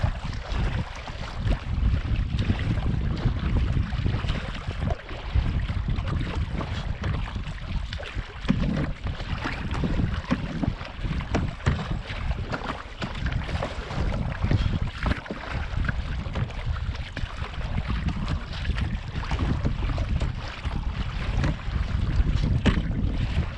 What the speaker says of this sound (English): I can't stop paddling.